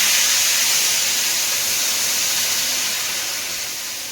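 Water poured into a hot pan of big potato curry bursts into a loud, broad steaming hiss that starts at full strength and slowly fades over a few seconds.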